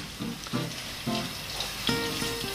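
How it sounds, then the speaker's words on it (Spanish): Flour-dusted beef frying in hot extra virgin olive oil in a casserole pot, a continuous loud sizzle with repeated bursts as pieces are moved and stirred, heard up close. "cuando está caliente se fríe la carne pasada ligeramente por harina"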